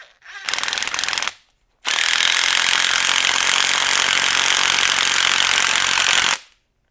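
Power tool tightening a pillow ball into the upper front arm of a Mugen Seiki MBX8R ECO RC car, a short loud burst followed by a longer steady run at close range.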